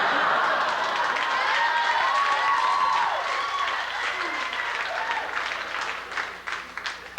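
Sustained applause from a comedy club audience, loud and dense at first with some whoops and laughter, then thinning into scattered claps toward the end.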